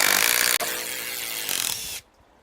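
A Hikoki 12V impact driver working at removing screws: a loud, continuous rattling whir that breaks briefly, resumes, then surges before cutting off abruptly into near silence.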